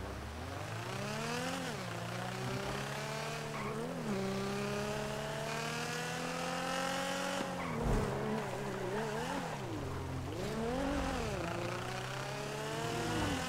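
Video game car racing with engines revving hard through gear changes and rising pitch sweeps, tires squealing and skidding through corners, loud and continuous with no talk.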